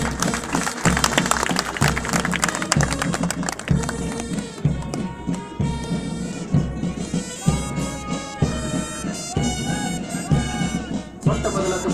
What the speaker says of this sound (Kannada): ಇಲ್ಲಿರತಕ್ಕಂಥ ಎಲ್ಲರೂ ಇವರನ್ನ ಸ್ವಾಗತಿಸಿ ಜೋರು ಚಪ್ಪಾಳೆಯ ಮುಖಾಂತರ